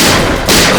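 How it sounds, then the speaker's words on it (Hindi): A loud, close gunshot blast from a TV crime drama scene, a single sharp boom with no speech over it. "गोली!"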